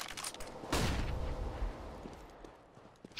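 A flashbang grenade detonates in CS:GO on Dust2: one sharp, loud burst that leaves a long fading ring and rumble, with softer game noises before it.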